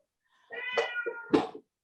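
A cat meows twice in quick succession nearby, a drawn-out tonal call followed by a shorter one, clear against a quiet room.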